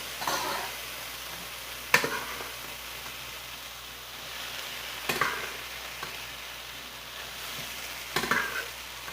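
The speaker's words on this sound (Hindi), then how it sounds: "इसमें अब हम अपना चुकंदर जो है वो भूनेंगे" Beetroot being stir-fried in masala for a beef stew: a soft, continuous sizzle with a few sharp scraping stirs at intervals, close and without talk.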